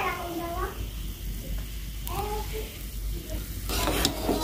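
A small fish curry simmers and sizzles in a pan on a home stove, a close, continuous bubbling hiss, while people talk over it and a voice is heard near the end.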